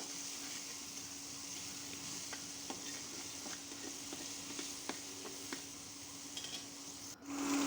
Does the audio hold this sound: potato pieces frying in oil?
yes